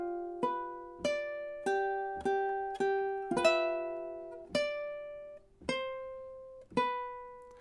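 Ukulele playing chords, eight or so single strums at a steady pace with a quick pair in the middle, each chord ringing and fading, close and alone.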